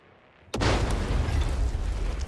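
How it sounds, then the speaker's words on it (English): A grenade detonates in the video game Dune: Awakening, a sudden close loud blast after brief quiet, followed by a sustained roaring rumble and debris. "Throw grenade."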